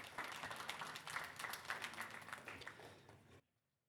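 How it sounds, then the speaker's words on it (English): An audience at a tech talk gives a speaker a round of applause: dense, even clapping for about three seconds that then cuts off abruptly into silence. "Please give him a round of applause."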